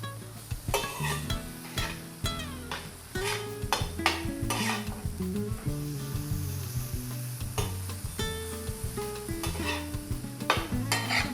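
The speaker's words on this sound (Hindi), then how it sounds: "तो इसकी अच्छी सी भुनाई हो रही है" Kaleji (liver) is stir-roasted on a hot tawa, with a dense continuous sizzle and rhythmic metal scraping and clanks of the spatula, close and loud throughout.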